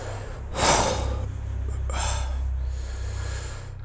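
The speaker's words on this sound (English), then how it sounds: "Suddenly my breathing became affected." Heavy, gasping breaths come in two loud, ragged bursts, a sharp one near the start and a longer one midway, over a low steady hum with no talking.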